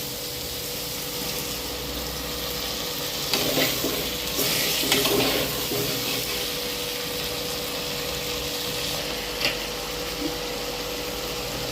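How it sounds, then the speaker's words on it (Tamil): Tomatoes sauté with golden-browned onions in a pan for chicken gravy, giving a steady low sizzle with a few louder stirring bursts midway and no talk. "தக்காளி வதங்கிட்டு இருக்கு."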